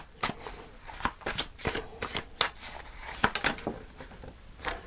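Tarot cards are shuffled by hand, with a quick series of crisp riffling and slapping bursts close to the mic, irregular in rhythm and heard alone.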